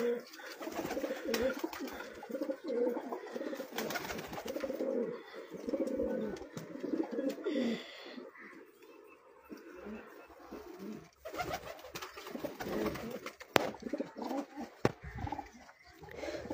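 Breeder pigeons coo on a rooftop in Punjab, low throaty calls repeating close by in irregular bursts, with occasional quieter gaps and faint background sounds.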